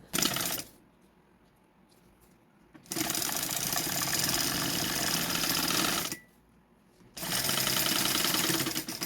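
A sewing machine stitching a seam on a fabric shoulder bag, running in two steady whirring bursts separated by a short pause, close and fairly loud, with no talking.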